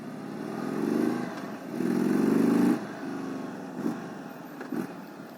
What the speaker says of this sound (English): Man, it sounds really good.